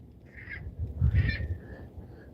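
Geese honk a few times at a distance, two or three nasal calls over a low background rumble, faint and brief.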